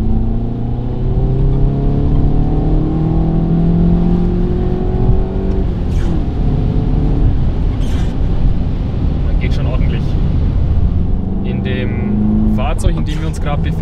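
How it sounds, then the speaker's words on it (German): A Volkswagen Golf engine, GTI Performance or Golf R, pulls hard through third gear from inside the car, a loud steady drone rising in pitch over several seconds while someone talks over it. "Und dann können wir hier mal im dritten Gang durchbeschleunigen, um den Motorsound ein bisschen kennenzulernen."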